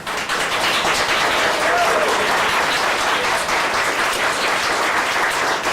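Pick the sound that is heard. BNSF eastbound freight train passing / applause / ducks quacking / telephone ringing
applause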